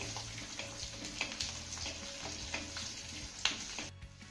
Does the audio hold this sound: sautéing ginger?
yes